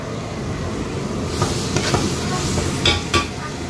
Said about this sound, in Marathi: एकीकडे पाव भाजले जात आहेत